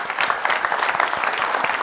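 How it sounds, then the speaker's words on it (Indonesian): Applause from a studio audience welcoming a guest onto an Indonesian TV show, a steady close patter of many hands clapping with distinct individual claps audible, sustained for the whole moment. "Untuk itu kita berikan sambutan dengan tepuk tangan Ustadz Danu."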